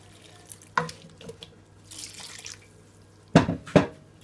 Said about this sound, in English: I'm going to add water, not a lot of water.